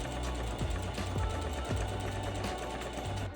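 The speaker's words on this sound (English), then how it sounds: "We're going to place some right sides together and sew the sides on the top of the collar." A sewing machine stitches fabric collar pieces for a Filipiniana dress, its steady mechanical whir running close and continuous, broken by a few brief pauses and speed shifts.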